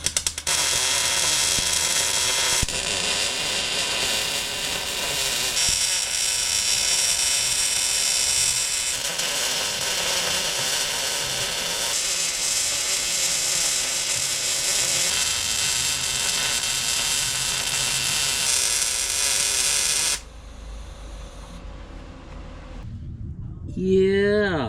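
Welding of an intercooler mount during front-mount intercooler and tucked radiator prep on a drag car, a steady loud crackling buzz running unbroken for about twenty seconds, then cutting off into a quieter workshop with brief handling noises.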